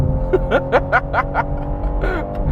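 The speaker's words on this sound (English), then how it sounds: "I'll demonstrate the gear changes for you." A BMW M3 CS Touring engine revs hard in a series of quick rising bursts, each pull cut short by a gear change, loud and close.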